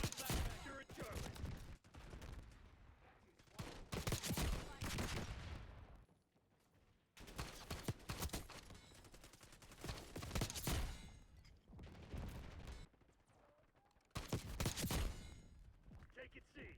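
Bursts of rapid gunfire from marksman rifles and other weapons in a first-person shooter match, loud volleys with short lulls, while a radio voice and players talk over the action.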